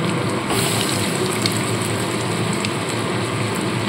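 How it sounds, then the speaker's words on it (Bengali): Egg chops fry in hot oil over low heat, giving a steady, loud, dense sizzle that carries on evenly throughout with no speech. "এবার এগুলোকে তেলের মধ্যে ভেজে নিতে হবে"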